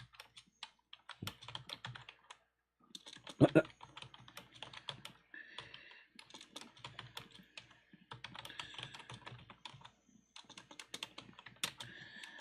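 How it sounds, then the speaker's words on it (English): Rapid clicking of keys on a computer keyboard, typed in irregular bursts with short pauses, close and fairly quiet. "I'm just typing at someone here."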